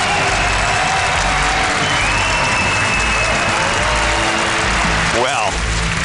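Live esports crowd at a StarCraft WCS Season 2 quarter final applauding and cheering for the Zerg player Scarlett, a steady loud wash of clapping and cheers from a large audience throughout, with some cheering rising near the end.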